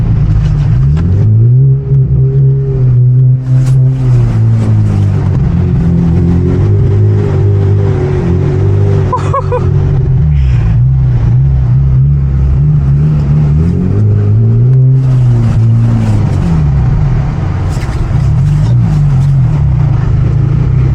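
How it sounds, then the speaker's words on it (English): A rear-wheel-drive coupe's engine drones loud and close as the car drifts through donuts in a Canadian blizzard, revs rising and falling in steady swells. "I think I'm gonna stick to drifting right here."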